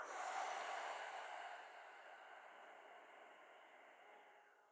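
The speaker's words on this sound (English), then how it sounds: "Breathe in, flow up" One long, deep inhale drawn through the nose during a beginners yoga session, a soft airy rush that gradually fades out, heard close up and alone.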